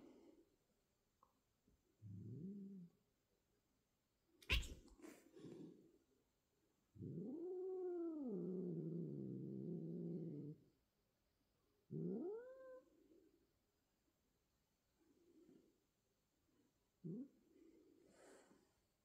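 A cat yowls and caterwauls in drawn-out, pitch-bending wails that rise and fall like a theremin, broken up by shorter meows, a snort and quiet pauses, fairly close and alone.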